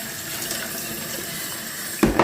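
A kitchen tap runs steadily for a final rinse of food in a small pan, a broad close hiss of water that grows slightly louder at the end.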